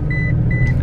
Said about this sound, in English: that little beeping noise is actually a seatbelt